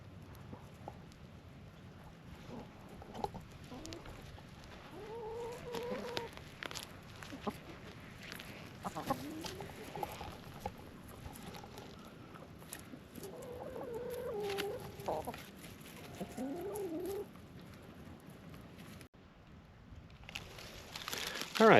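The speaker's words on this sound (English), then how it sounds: "the chickens are enjoying their scratch grains out here in the sunshine" Soft clucking from a few chickens eating scratch grains outdoors in sunshine, quiet and intermittent, with faint rustling and scratching nearby.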